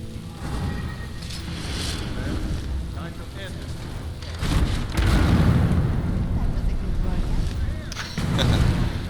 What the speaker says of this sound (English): Oh, that explosion is so good.